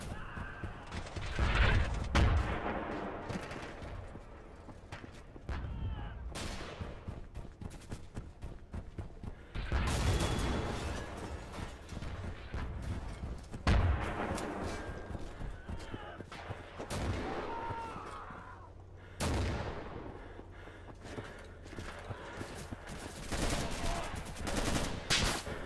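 Mortar fire and gunfire in the WWII shooter Red Orchestra: Darkest Hour rattle through a battle, with bursts of rifle and machine-gun shots and several heavy booming impacts, loud and close, some faint voice chatter underneath.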